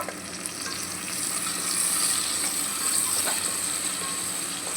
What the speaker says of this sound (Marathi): आता आपण त्यात टोमॅटो घालू.